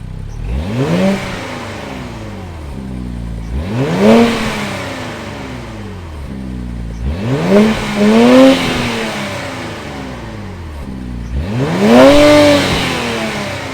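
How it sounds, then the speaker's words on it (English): The 3-liter twin-turbo V6 of a 2022 Infiniti Q60 Red Sport 400 is revved four times in succession, each rev climbing sharply and falling back to a low idle rumble between bursts. "that was of course the sound of the 3-liter twin-turbo V6"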